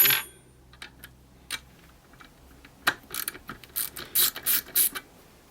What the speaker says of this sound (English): So you can use your ratchet to take it down to almost tight, finger tight